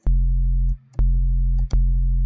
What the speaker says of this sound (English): we're going to focus more on these kind of like plucky sort of basses